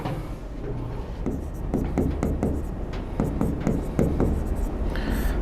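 Notes written quickly by hand during an economics lecture, a close run of scratchy pen or chalk strokes in rapid uneven bursts over a steady background hum.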